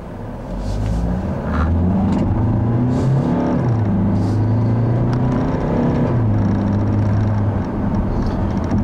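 A 2015 Chevrolet Cruze turbo diesel car pulls away from a stop, its engine rumbling loud and close as it climbs through rising revs with short dips between gears.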